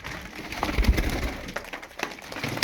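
Pigeon cooing from an old blue, feather-footed (boru paça) female pigeon among a loft of birds, soft low murmuring coos with scattered bird rustling, close by and moderately loud.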